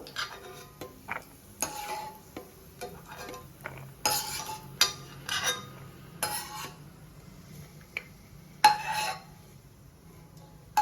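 Cashews and almonds frying in a pan with ghee for jaggery rava laddu, stirred with a metal spoon that scrapes and clinks against the pan in irregular bursts over a faint sizzle. Close and fairly quiet, with no talking.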